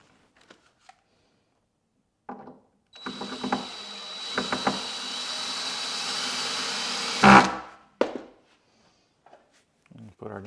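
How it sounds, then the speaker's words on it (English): Cordless drill boring through a new kitchen cabinet door for a knob, a steady whirring buzz of several seconds that ends sharply, with brief handling clicks before and after. "you're drilling through your nice new cabinets"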